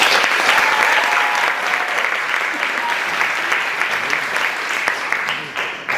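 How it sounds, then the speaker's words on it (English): An audience applauds Siya after a vigorous Odissi dance at her Manch Pravesh debut, dense sustained clapping filling the hall, loud and even before easing slightly at the end. "So let's give Sia another round of applause."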